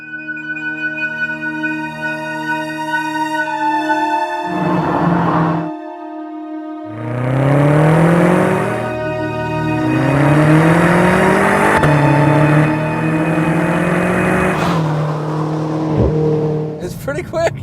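A BMW M5 engine pulls hard through the gears, its pitch climbing repeatedly and then dropping with each quick, aggressive dual-clutch shift, loud and close from inside the car, with a brief pause near the start.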